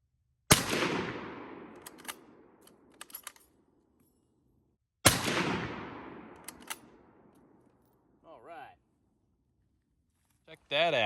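Two loud, sharp Carcano rifle shots fired at a target about four seconds apart, each followed by a long ringing outdoor decay, with a few light clicks and a person speaking near the end.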